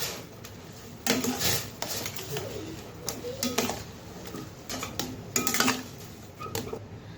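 Semolina being stirred in a pan for vada batter, with irregular scraping and clinking of a spoon against metal and occasional louder knocks, while birds coo in the background.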